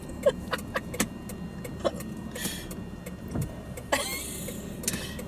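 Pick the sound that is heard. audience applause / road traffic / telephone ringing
road traffic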